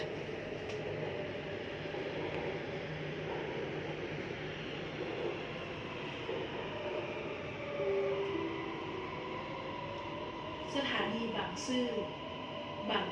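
A Bangkok MRT Blue Line subway train rumbles steadily into an underground station, a continuous low roar with squealing brakes near the end, while someone talks over it.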